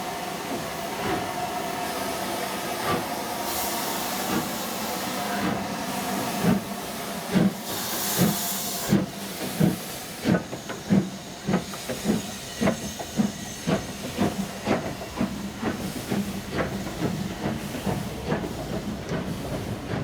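An A-Class steam locomotive, number 52322, arrives at a station with a shuttle train: a long steady steam hiss that builds into a run of rhythmic chuffs and wheel beats, close and loud, with no voices.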